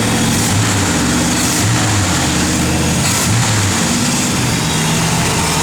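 A 1969 Plymouth Road Runner with a 383 V8 running on the road, a loud, steady low engine rumble with exhaust drone and faint rises in pitch, close and continuous with no talking.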